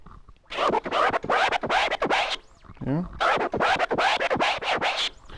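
Rhythmic turntable scratching in release style, letting the platter play, with repeated quick back-and-forth scratch bursts in a steady pattern and a brief spoken interjection.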